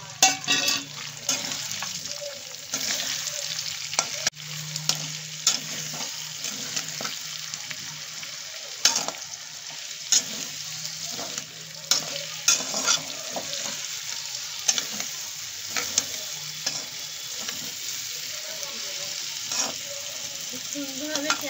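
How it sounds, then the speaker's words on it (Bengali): Onions fry in hot oil in a pan, a steady hiss broken by regular scraping strokes of a spatula and occasional clanks, with brief faint speech at times. "তেলটা গরম হয়ে গেছে, আমি এখানটায় পেঁয়াজগুলো দিয়ে দিলাম"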